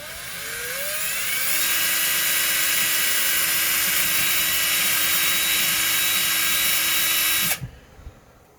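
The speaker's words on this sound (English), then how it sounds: "So you got to drill." A power drill bores holes through the axle of a cheap eBay RC truck (a Clodbuster build), whining steadily at high speed for about six seconds after a brief start, then cutting off abruptly.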